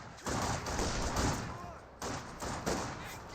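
An assault mortar fires in a Company of Heroes 2 battle: heavy, booming blasts, one near the start and two more close together late, each with a long rumbling tail over constant battlefield noise.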